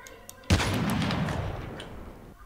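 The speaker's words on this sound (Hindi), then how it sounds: "तो उसने बम गिरा दिया है" A bomb blast in the Call of Duty Mobile video game, one sudden loud boom that rolls out into a long rumbling decay, with faint gunfire before it.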